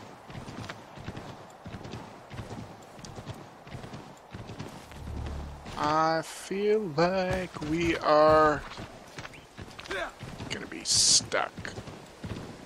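Horse hooves clip-clop in Assassin's Creed 3, a rapid, even trotting rhythm that runs throughout, with a whinny and people talking over the middle part.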